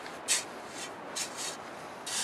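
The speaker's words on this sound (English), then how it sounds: "Torpedo sand. Spread it around a little bit." Torpedo sand being spread in a raised garden bed, giving a few soft scraping, rubbing bursts spaced across a couple of seconds, close and fairly quiet with no talking.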